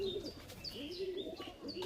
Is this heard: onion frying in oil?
no